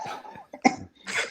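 Two or three short, close coughs in quick succession, fairly quiet.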